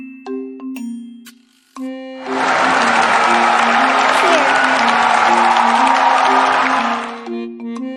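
A crowd bursts into loud cheering and applause that lasts several seconds before cutting off, framed by soft chiming musical tones before and after.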